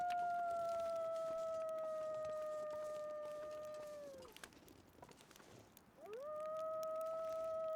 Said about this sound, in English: They're Timberwolves